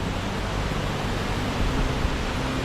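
Rushing flood water at Khlong Lan waterfall in Khlong Lan National Park, a dense, steady roar close by with no breaks and no talking.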